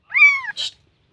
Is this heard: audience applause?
no